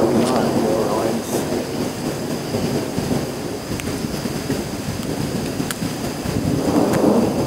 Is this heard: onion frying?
no